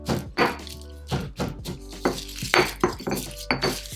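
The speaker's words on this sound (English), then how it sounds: "So I just want to bruise the garlic." Garlic cloves being bruised and crushed for a spaghetti meat sauce, heard as a series of sharp, close knocks and thuds against a board or bowl, roughly one or two per second, with faint clinks between.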